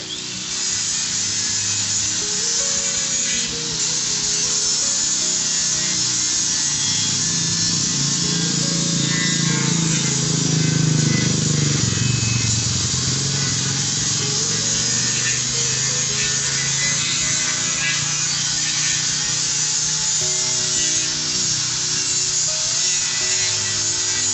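Sandpaper scrubs steadily against a fence being prepared for painting, a loud, continuous, close rasping that holds evenly throughout with a rhythmic back-and-forth texture.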